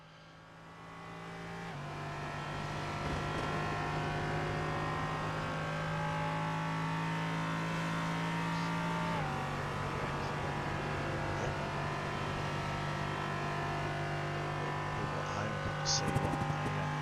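An LMP3 race car engine lapping Phillip Island, a steady, loud onboard drone holding high revs with shifts in pitch as gears change, continuous throughout with a brief clatter near the end.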